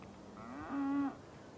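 A single beef cow on the Great Plains of eastern New Mexico lets out one clear, drawn-out moo that rises and holds, close by and fairly quiet against a still background.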